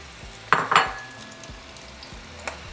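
Halved tomatillos hitting hot oil in a pan, with a sharp sizzle burst around the half-second mark, a second flare just after, then a faint settling fry.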